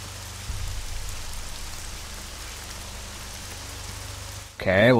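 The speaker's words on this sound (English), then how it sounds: "we're in a rainy place at Peterstrab 38, or whatever that is" Steady rain in the video game Hammer & Sickle, a faint soft hiss of falling rain running throughout, with a brief louder burst of game sound at the very end.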